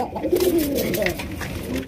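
Red deshi Bombay pigeons at a pigeon farm coo in a continuous low warbling murmur, fairly close and moderately loud, with voices faintly mixed in.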